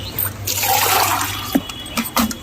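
Fresh water poured into a container of water used for sprinkling over seeds, a steady close pouring and splashing that runs for about a second and a half, then trails off into a few scattered drips and splashes.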